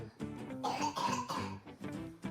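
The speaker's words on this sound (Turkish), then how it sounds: "Öksür." Several coughs in close succession, near and fairly soft, with a throaty, rough quality.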